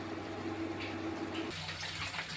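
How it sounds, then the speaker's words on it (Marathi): Water runs steadily from a household tap, a continuous broadband rush that shifts and changes tone partway through as the flow or vessel changes, close and fairly loud with no talking. "पाणी पण आलं आहे नळाला मग मला पाणी पण भरायचं आहे"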